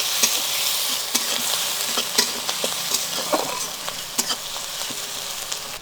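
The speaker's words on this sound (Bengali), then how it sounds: "একটু নেড়ে চেড়ে নেব।" Prawns and chopped onion frying in a pan make a steady, dense sizzle, with regular scraping stirs from a spatula cutting through at intervals.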